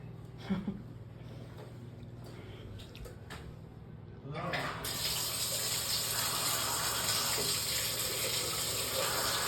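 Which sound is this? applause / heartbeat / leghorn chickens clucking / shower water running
shower water running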